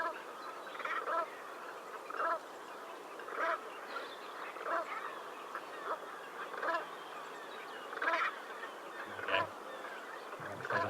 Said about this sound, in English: They're lovely birds, Brent geese. And so this is, I'll just play their call.